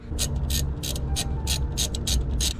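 A ratchet wrench undoing a 12 mm brake caliper bolt on a Honda EF Civic, clicking in a run of quick, evenly paced bursts over a steady low background hum, close and clear.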